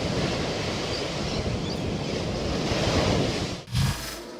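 Sea waves crash and roll in a steady, loud wash of surf with wind, continuing unbroken before a brief dip and a fresh surge near the end.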